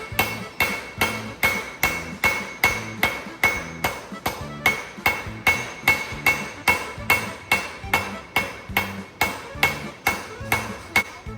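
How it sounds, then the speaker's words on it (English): A 2-pound hammer strikes a rail spike on an anvil while forging a dagger, ringing out in a steady, even rhythm of loud, close blows, about two per second, with no talk. "Now, I think that's a 2-pound hammer, and the key really is to let the hammer do the swinging."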